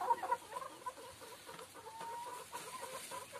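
Free-range KUB chickens cluck softly and repeatedly nearby, a loose scatter of short calls at low volume with no talking.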